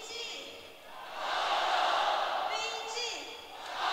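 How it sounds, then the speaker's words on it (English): A packed arena crowd at a live Dota match between VG and EG swells into a loud, sustained rhythmic chant for team VG, echoing through the venue with bursts of cheering and a voice or two close by. "They're getting a VG cheer going on"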